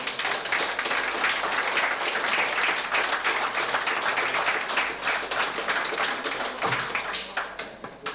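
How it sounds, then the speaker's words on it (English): A pub quiz final crowd in a bar claps steadily for the competing teams, a dense, sustained round of applause at moderate distance with no talk over it. "the teams deserve a good round of applause for coming forward"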